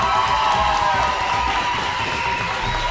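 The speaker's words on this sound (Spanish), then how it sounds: "démosle un aplauso a los ganadores" Audience applause and crowd noise for the winners of a televised language-skills competition, a dense, steady wash of clapping and cheering that holds at full strength for the whole stretch.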